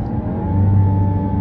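New Land Rover Defender engine holding revs in second gear on a mountain road grade, a loud steady low droning hum heard from inside the vehicle.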